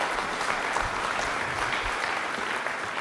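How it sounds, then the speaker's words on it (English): An audience at a morning business meetup applauds, a steady dense clatter of many hands clapping nearby for a few seconds. "Round of applause for these fine folks."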